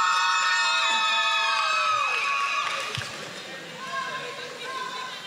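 A crowd at the final day of a Caribbean youth netball tournament cheers and shouts with high children's voices in an indoor hall, loud at first, then easing to a lower murmur of voices and chatter.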